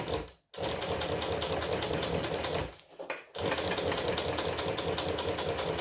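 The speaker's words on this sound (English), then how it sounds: "The back stitch just goes over the original stitches to lock it in place." A sewing machine runs fast back and forth as it back-stitches a saltwater pouch, giving a steady mechanical rattle broken by two short pauses.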